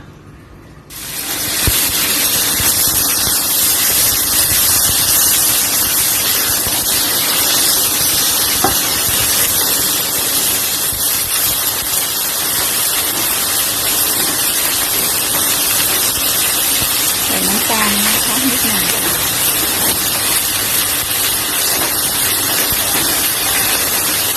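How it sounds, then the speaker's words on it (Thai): Cabbage stir-fried with salted fish in a hot pan: a loud, continuous hissing sizzle that starts abruptly as the food hits the oil and holds steady and close throughout, with faint scraping of stirring beneath. "เดี๋ยวเรามา ลงมือผัดกันเลยนะคะ"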